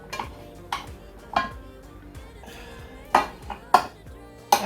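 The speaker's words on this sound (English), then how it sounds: "The noise of the pots don't bother me" Metal pots and utensils clink and clatter while hot water cornbread is cooked in a home kitchen, with several sharp ringing knocks scattered over a low, steady background hum.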